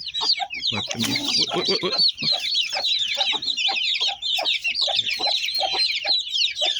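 Chickens and a chick cluck and peep in a busy, overlapping stream of short calls close by, kept alongside a pigeon that raised the chick, with a brief burst of a voice early on.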